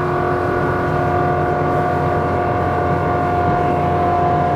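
A SUPERRIB Open 27 rigid inflatable boat running at about 45 knots gives a constant, loud engine drone with a steady tonal whine layered over wind and water rush, and no one speaks.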